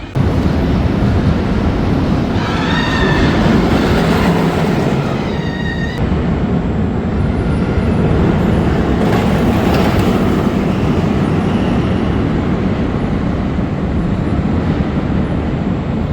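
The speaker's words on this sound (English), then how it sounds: "this is probably the least janky ride I've ever gotten on a loco" An amusement park train ride at Adventuredome on a repainted locomotive gives a loud continuous rumble of wheels and running gear, with faint clicking passes and a brief whistle-like tone early on, sustained and close with no speech.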